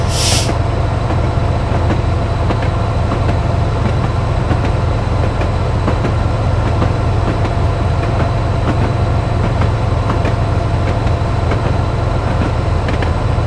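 Train running over jointed track on a modern route: a loud, steady rumble fills the whole clip, with faint repeated wheel clicks and a brief hiss at the start, heard from on board with no talking.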